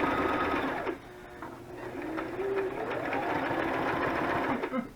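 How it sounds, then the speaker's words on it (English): A sewing machine whirs steadily at close range while a lacy junk journal cover is made, its motor pausing briefly and then running on, with someone talking and birds faint in the background. "she hears the sewing machine"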